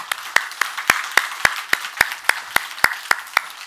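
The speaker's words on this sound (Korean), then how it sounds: "우리 하나님께 영광의 박수 한번 합시다." A Korean church congregation clapping together in steady unison, about a dozen sharp even claps at a brisk regular beat, loud and close.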